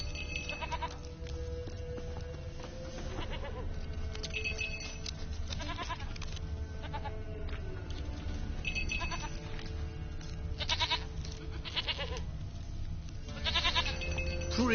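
Goats bleat repeatedly in The Witcher 3, a string of nasal, wavering calls at close to middle distance over a steady game ambience with background music.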